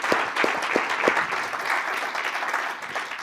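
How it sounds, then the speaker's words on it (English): An audience applauds a speaker at an event, opening with a few distinct near claps that merge into steady, moderately loud clapping throughout. "Let's just clap for her."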